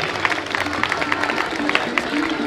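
Students clap loudly to welcome guests arriving on stage at a school anniversary celebration, a dense rhythmic patter of many hands with murmuring voices mixed in.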